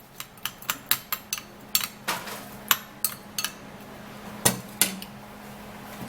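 Lemon juice being mixed in a bowl, a utensil striking the sides in a quick run of sharp clinks and taps, then sparser knocks, close and fairly loud with no talking.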